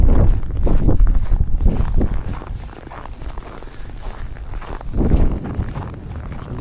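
Gusty wind blows outdoors at a snowy Tanger Outlet mall, a loud, steady rumbling roar that swells and eases across the stretch, with no voices.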